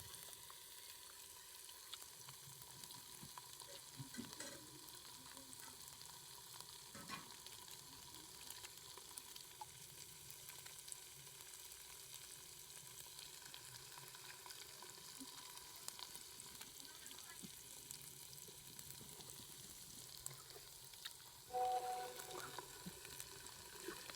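Ginger, garlic and green chili paste frying in a pan, a faint, steady sizzle that continues unbroken throughout, with a brief soft clink near the end.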